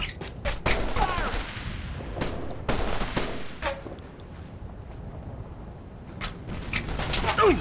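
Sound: gunfire in Operation Flashpoint video game

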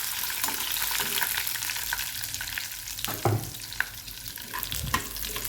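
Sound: chana dal frying in oil

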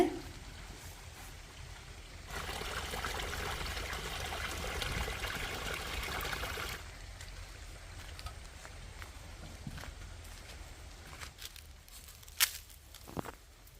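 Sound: water flowing into the field below

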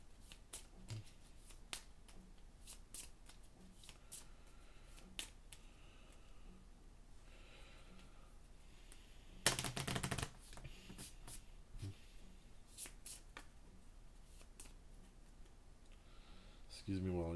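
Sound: shuffling a deck of game cards

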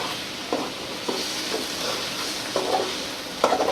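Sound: bitter gourd (karela) frying in pan

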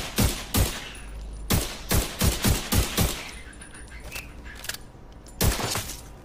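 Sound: rifle gunfire in video game The Division 2

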